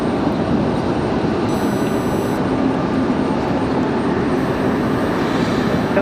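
A jet aircraft at Raleigh-Durham International Airport gives a steady, loud, broadband engine roar that holds even throughout, heard from nearby on the airfield with no clear peaks.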